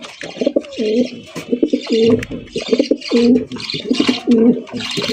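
Repeated racing pigeon coos in rhythmic bursts, close and loud, with brief pauses between the calls and no talking.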